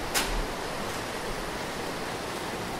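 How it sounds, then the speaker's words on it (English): A sewage waterfall roars inside the Paris sewers, a dense, continuous rush of falling water that fills the space at close range, steady and loud with no talk over it. "This is like a crap waterfall."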